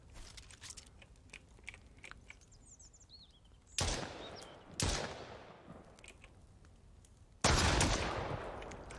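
Distant gunshots ring out in the survival game Mist Survival, three sharp cracks spaced several seconds apart, each with a long echoing tail over quiet outdoor ambience with scattered small clicks between.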